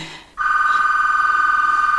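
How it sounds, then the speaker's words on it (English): A telephone rings with a loud, steady electronic warble that starts abruptly after a brief quiet moment and carries on unbroken to the end. "I have to answer my phone"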